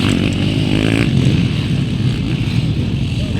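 450cc MX1 motocross bikes race in a final heat in Basilan, their engines buzzing and revving loudly and continuously close by, with no talk over them.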